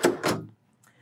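A deep drawer in the sleeper of a 2024 Kenworth W990 truck being opened, two quick close sliding rumbles followed by quiet.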